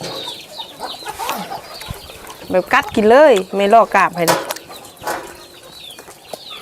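Chickens cluck and call close by on a farm near a catfish pond, a burst of clucking rising over ongoing talk and background noise.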